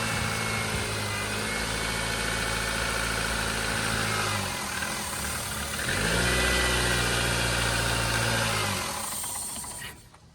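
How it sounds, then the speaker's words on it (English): A car engine idling steadily with a hole in the air intake hose covered by hand, a close, even mid-pitched drone that rises slightly midway before cutting off abruptly at the end. "I'm gonna have someone start the car while I cover the hole with my hand to see if the engine sounds better."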